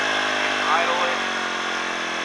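A small mini generator engine idles steadily at close range on its first run, a continuous buzzing drone with a slight throttle bump partway through.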